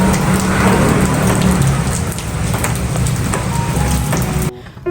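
Steady rain falls and patters on surfaces outside a house, a dense continuous hiss at close range, with no talking.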